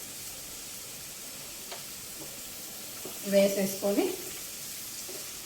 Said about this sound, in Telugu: కొంచెం బీరకాయ వేయించుకొని